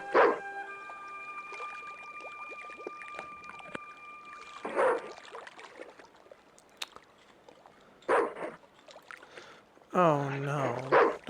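A dog in the point-and-click adventure game Broken Sword: The Smoking Mirror, with a few separate barks and yelps at a moderate level among quiet dockside ambience and a tonal game sound.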